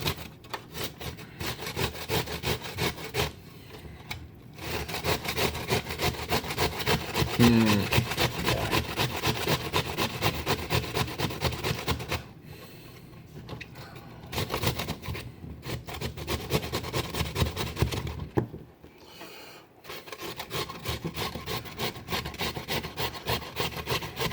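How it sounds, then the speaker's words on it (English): Potatoes being grated for latkes, a rapid rhythmic rasping scrape in long steady runs broken by short pauses, close and prominent throughout. "We grate all of these potatoes."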